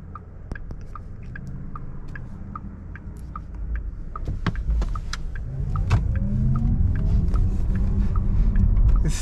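Porsche Taycan Turbo S electric car accelerating hard in sport mode, a rising whine and road rumble building steadily louder over several seconds, heard from inside the cabin with no talking.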